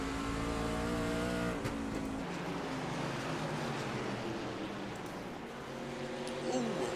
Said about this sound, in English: You can hear he's easy on the throttle there.